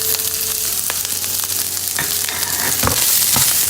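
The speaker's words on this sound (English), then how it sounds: "Saute the vegetables." Chopped beans, carrots and peas sauté in a pan with a steady hiss and crackle, punctuated by a few sharp stirring clicks, close and moderately loud with no voices.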